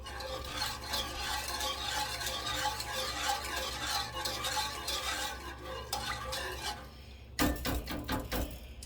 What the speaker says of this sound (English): Got the whisk here, make sure there's no lumps in it.